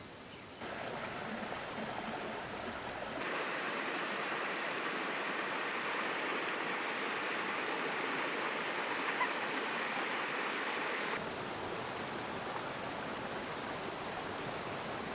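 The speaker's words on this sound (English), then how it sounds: "The sound of the flowing waters is melodious." Mountain water flows in a continuous, full rushing hiss from a stream close by, steady and unbroken with no voices.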